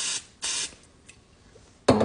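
Cooking spray hissing from an aerosol can in short bursts: two quick sprays close together, a pause, then a third burst at the end, close and fairly loud with nothing else over it.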